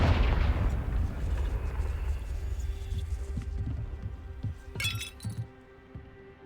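Explosion of the Confringo blasting spell in Hogwarts Legacy, a loud rumbling burst that rolls and decays over several seconds, ending with glassy, crackling debris clinks.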